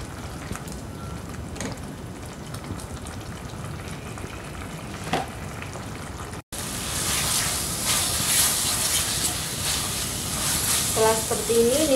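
Spice paste with sugar sizzles steadily in hot oil as it is sautéed for goat gulai, a continuous close frying hiss that grows slightly louder after a brief cut.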